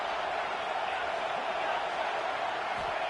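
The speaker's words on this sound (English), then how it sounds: "This crowd bringing the energy and noise early." Stadium crowd at a football game producing a steady, broad roar throughout, fairly distant and even in level, with no single voice standing out.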